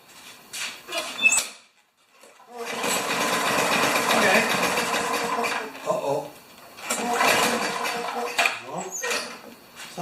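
A Craftsman lawn mower engine is cranked after priming, sputtering in rough bursts of several seconds separated by short pauses, while a person talks nearby.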